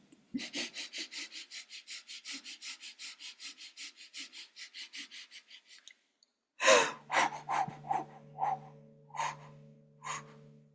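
Shakti breathing exercise: a long run of quick, rhythmic, forceful breaths, about two each second, for several seconds. After a brief pause, voiced sounds and louder exhalations follow.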